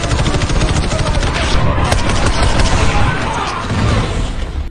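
Rapid, dense gunfire from a film shootout, with pirates trading shots with a mercenary around a ship's deck. It sounds as a loud, continuous barrage of crackling shots and bursts with no pauses.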